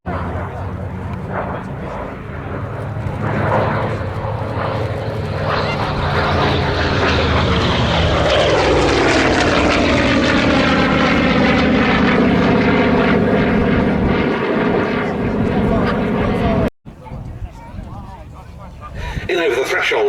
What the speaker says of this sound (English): In over the threshold comes the Bearcat